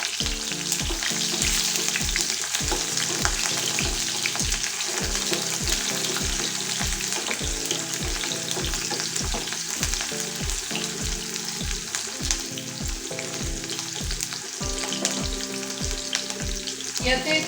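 Whole cumin seeds and sliced onion sizzle in hot oil with a bright, continuous frying crackle, while regular rhythmic thumps of stirring in the pan carry on throughout and no one speaks.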